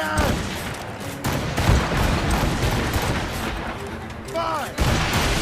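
Ship cannons firing in a naval battle in Assassin's Creed Rogue, heavy repeated booms and rumbling volleys over a dense battle din, with voiced crew calls mixed in.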